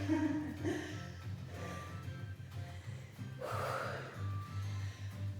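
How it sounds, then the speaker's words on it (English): Heavy, labored breathing close to the mic during an upper-body strength and conditioning workout, with rhythmic gasping inhales and snorting exhales as if mid-exertion. "Mind my heavy breathing."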